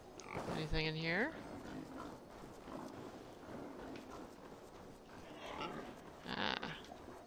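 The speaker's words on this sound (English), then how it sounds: "Pigs." Pigs grunting and oinking in the video game Assassin's Creed Valhalla, a short close squealing grunt followed by quieter snorts over ambient wind and rumble, with a later burst.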